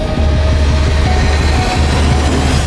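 Steady loud rumble and rhythmic wheel clatter of a moving passenger train, continuous and close, as from inside a carriage, with no voices.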